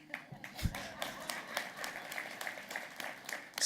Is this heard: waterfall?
no